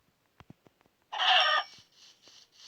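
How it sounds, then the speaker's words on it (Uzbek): Minecraft chickens give short clucks in a survival game: a few faint clicks first, then one louder burst of clucking and softer repeated clucks. "Yana ikkita tovuq"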